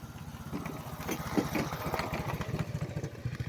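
A motorcycle engine runs nearby with a steady, throbbing low rumble that holds at an even level throughout, with no other sounds over it.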